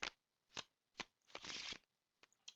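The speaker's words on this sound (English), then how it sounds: "Let me shuffle our bottom 5." A deck of cards is shuffled at a table during a Smash Up card game: three quick crisp riffles, then a longer rippling shuffle and a final few snaps, close and clear.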